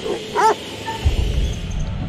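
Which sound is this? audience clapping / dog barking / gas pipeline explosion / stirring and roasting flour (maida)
dog barking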